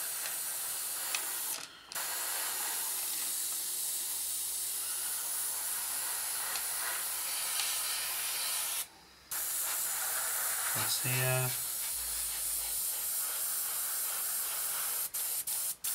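Black paint is sprayed in a single coat onto a 1/72 scale Revell Halifax Mk.III model kit, heard as a loud, continuous hiss broken by two short pauses, with a brief voice speaking near the end.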